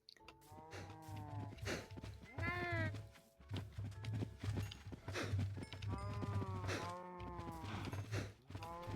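Several video game cows moo repeatedly, overlapping long, drawn-out calls over a steady low rhythmic background, on a Minecraft-style mob farm.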